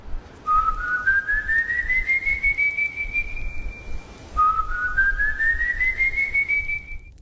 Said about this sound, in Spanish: Desde muy lejos, o eso le pareció a él, llegó otro silbido.